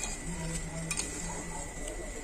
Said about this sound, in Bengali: এবারে এর মধ্যে দিয়ে দিচ্ছি ভেজে রাখা কাঁকড়াটা দিয়ে খুব ভালো করে একটু কষিয়ে নেব।